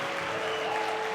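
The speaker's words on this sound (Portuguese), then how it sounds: "Será que você pode dar uma salva de palmas bem forte para Jesus, aonde você está?" Audience at a Christian worship event gives steady, dense applause filling the whole short stretch, a continuous wash of clapping from a large crowd.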